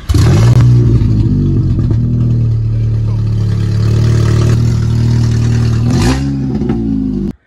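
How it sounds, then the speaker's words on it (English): A loud, raw 2020 Audi A3 engine with straight-pipe exhaust roars steadily close by, dipping briefly to a burbling idle before revving hard again near the end. "We're gonna start at straight pipes and see what it sounds like."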